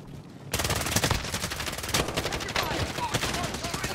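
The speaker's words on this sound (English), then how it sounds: "Taking fire!" Rapid automatic gunfire in a battle royale video game, a dense continuous burst of close, loud shots rattling on for several seconds with a few heavier bangs inside the stream.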